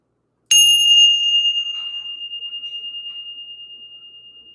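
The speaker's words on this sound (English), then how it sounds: "Let's ring the bell." A single bell strike rings out clearly with a sharp onset, then sustains as one bright, steady tone that slowly fades and wavers over several seconds, with no other sounds around it.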